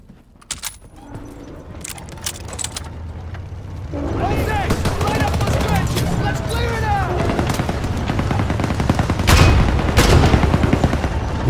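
Dense WWII battlefield gunfire and explosions in Call of Duty: WWII, with sparse shots giving way to a continuous loud barrage of rifle and machine-gun fire and booms, while voices shout over the din.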